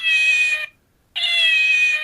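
A cat lets out two long, loud, drawn-out meows close by, separated by a brief silence, with nothing else audible.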